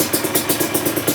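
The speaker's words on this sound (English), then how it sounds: "I got it idling nicely." A Yamaha Blaster 200 two-stroke ATV engine idles close by after restoration, a loud, steady, pulsing putter with even rhythmic beats.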